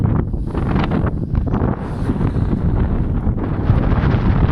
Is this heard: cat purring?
no